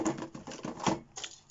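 Cardboard rustles, taps and tears as the box of a Dodge Charger R/T Altaya model car set is opened by hand, a close run of uneven crinkling and scraping bursts with no voices.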